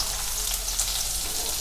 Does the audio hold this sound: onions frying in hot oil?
yes